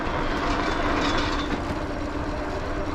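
Wheels rolling over the wooden slats of a small trail bridge make a steady, close rattling clatter with a faintly musical ring, continuous for a few seconds with no talking.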